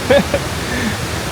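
Kuang Si waterfall in Laos roars steadily as a dense, even rush of falling water, with a short voice rising briefly near the start.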